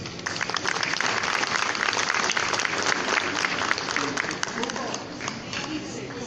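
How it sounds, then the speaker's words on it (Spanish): An audience at a Peruvian lecture on interculturality welcomes an anthropologist and archaeologist with strong, sustained applause, a thick continuous clatter of many hands filling the room evenly and easing a little near the end. "a quien lo recibimos con fuertes palmas"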